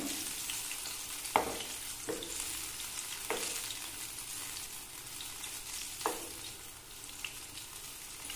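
Banana peel pakoras fry in hot oil with a steady, close sizzle, and a few sharp clinks of a utensil land at irregular moments. Nobody speaks.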